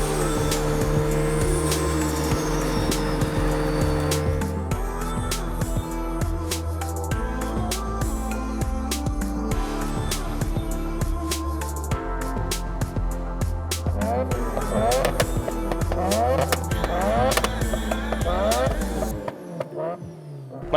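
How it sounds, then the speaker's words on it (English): A 2000 Subaru Impreza RS fitted with a rotary engine laps the PPIR race track at a Grid Life event, its engine loud and close throughout, rising and falling in pitch with shifts and revving hard. "put a rotary engine in it."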